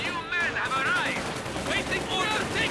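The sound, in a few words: gunfire in video game Company of Heroes 2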